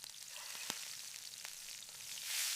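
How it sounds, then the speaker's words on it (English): Food sears and sizzles over an open fire in a high mountain setting, a faint steady crackling hiss with a few sharp pops, swelling slightly louder near the end, no talking. "The sound of the sear is the first sign that a hot meal is finally within reach."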